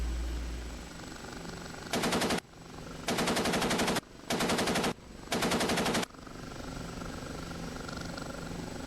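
Four sharp bursts of rapid gunfire from an OH-58D Kiowa helicopter's gun in DCS World, each about a second long and separated by short gaps, loud and buzzing over a steady rotor drone.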